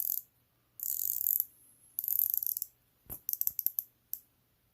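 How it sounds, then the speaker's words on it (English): A 120-click watch bezel on an RGMT Everlight tritium watch being turned, heard as several short runs of crisp, fine ratcheting clicks close to the microphone, separated by silent pauses, ending in a few isolated clicks. "Let's hear the bezel."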